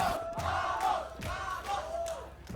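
A hometown crowd at a Valorant esports qualifier match chants and cheers in rhythmic waves, loud and sustained throughout.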